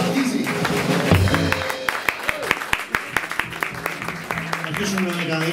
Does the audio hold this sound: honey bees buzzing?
no